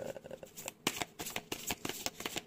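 A deck of oracle cards is shuffled by hand, giving a quick series of crisp riffling flicks and soft slaps, close and clear with no talk.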